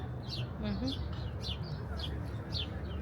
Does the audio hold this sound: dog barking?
no